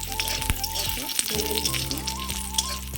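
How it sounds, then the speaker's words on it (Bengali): Homemade bori lentil dumplings fry in hot oil, for a dry potato and capsicum curry, with a steady close sizzle and crackle throughout, under a faint continuous tonal background. "ওই তেলের মধ্যে এই বড়িগুলো নিয়েছি, তো ভেজে নেব"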